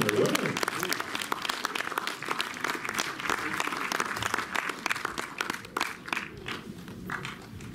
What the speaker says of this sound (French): Ouais, on peut nous applaudir.